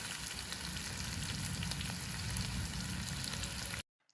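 Chicken frying with curry leaves in hot oil, a steady close sizzle with faint stirring clicks that runs without a break, then cuts off abruptly near the end.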